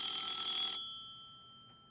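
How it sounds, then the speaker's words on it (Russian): A bright electronic telephone ring in the video game Minecraft sounds briefly, then cuts off and fades into quiet. "если телефон звонит, значит надо взять трубку"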